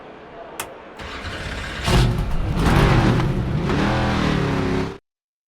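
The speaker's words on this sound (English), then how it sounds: "The cars are out on the track practicing for this weekend's race." Race cars in NASCAR 25 rev their engines on a road course during practice, a loud broadband engine roar building after a sharp start and holding steady for several seconds before cutting off.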